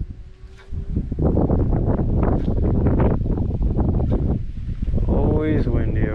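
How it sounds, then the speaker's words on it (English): Wind blows hard across a canal spillway in Cape Coral, Florida, a loud, steady, low buffeting roar against the microphone from start to finish, with a voice briefly heard near the end. "Always windy over here."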